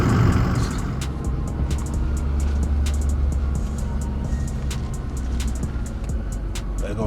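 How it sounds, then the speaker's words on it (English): Steady road traffic roar as a car hauler truck with a lowboy trailer rumbles past nearby, a low engine drone that swells and fades with passing vehicle noise. "There go a car hauler right there with a low boy."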